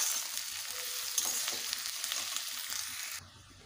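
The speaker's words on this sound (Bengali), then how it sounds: "এবারে রসুন আর পেঁয়াজটাকে ভালোভাবে ভেজে নেব।" Chopped onion and garlic frying in mutton fat sizzle steadily in a pan, a bright crackling hiss with occasional stirring scrapes, fairly quiet, before the sizzle abruptly softens near the end.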